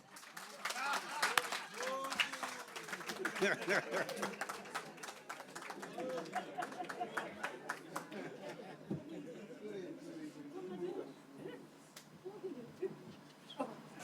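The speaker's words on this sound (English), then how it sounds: "Clap for me so that I can sit down." An audience at a capacity-building workshop gives scattered, lively applause mixed with chatter and voices, with the claps thinning out gradually toward the end.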